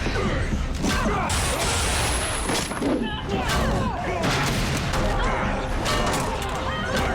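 Gunfire in a TV show scene, rapid bursts of shots mixed with clattering mechanical noise and crashes, dense and loud, with voices speaking amid the action.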